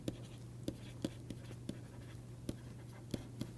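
Chalk taps and scratches on a board during a mathematics lecture, a dozen sharp irregular strokes over a low steady room hum, close and quiet, with no talking.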